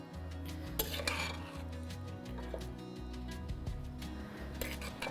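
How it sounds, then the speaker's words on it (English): Juicy macerated strawberries spooned onto warm biscuits, faint soft clinks and wet scrapes of a spoon against a dish repeating at a steady, unhurried pace in a quiet room. "A nice spoonful of strawberries on each one"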